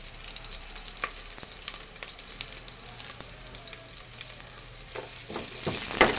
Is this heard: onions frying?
yes